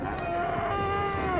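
Cattle in hot, vast outback cattle country around Cloncurry, Queensland, giving one long drawn-out moo, loud and close with no talk.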